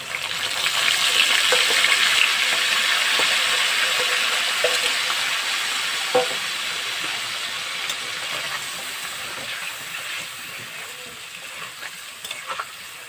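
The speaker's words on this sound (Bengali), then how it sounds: "এবার ভালো করে মশলাটাকে ভেজে নেব, কষে নেব আলুর সঙ্গে" Spice paste of ginger, green chilli, tomato, turmeric, coriander and cumin frying with potatoes in a pan, a strong steady sizzle with occasional stirring scrapes, fading slightly over time.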